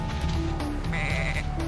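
Sheep bleat repeatedly in the video game Tak and the Power of Juju, several wavering, nasal cries layered over a dense, constant game soundtrack with tonal musical notes, fairly loud and close.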